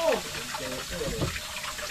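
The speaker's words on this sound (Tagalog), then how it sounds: "hugasan mo pa yan" Something is rinsed under a running tap, a steady broadband splash of water continuing through the clip while people talk nearby.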